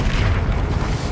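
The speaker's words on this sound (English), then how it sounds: "Incendio." The Incendio fire spell goes off in Hogwarts Legacy as a short, loud, booming burst of flame, dense and close, lasting about a second with no talk.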